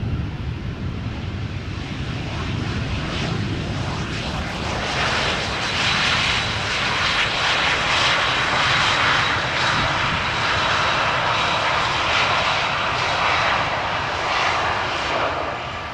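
An airliner landing at Amsterdam Schiphol Airport, a loud broadband engine roar that builds over several seconds and stays strong and steady as the aircraft passes close by on the runway, with no voices.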